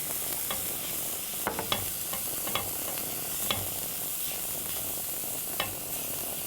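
Tofu, tomatoes and yeast flakes sizzle steadily in a pan, broken by scattered scraping clicks of a utensil stirring them, close and fairly quiet.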